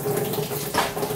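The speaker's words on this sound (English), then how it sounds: "Now I can hear it coming out of the bottom of the water pump." Water gushes out from under the water pump of a Jaguar V12 engine during a cooling system flush, a close, steady splashing rush with a faint ringing tone.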